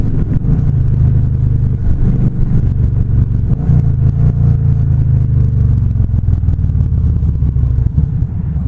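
A car engine rumbles loudly and close from inside the cabin, rising and falling as the driver blips the throttle to rev-match a downshift at a stoplight, steady and continuous without speech.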